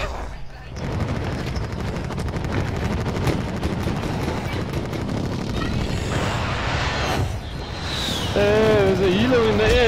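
Dense, continuous gunfire and blasts from Call of Duty Warzone in Verdansk form a loud, crowded barrage that runs through the whole stretch, with a voice briefly speaking near the end.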